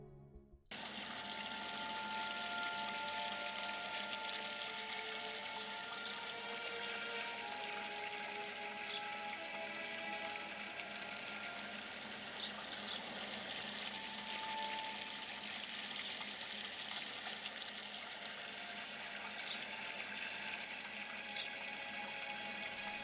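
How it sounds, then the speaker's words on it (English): Water from a fountain in The Witcher 3 video game splashes and gushes steadily, a constant rushing sound at low volume throughout. "a quick sound test with The Witcher 3 and a water fountain that's in game"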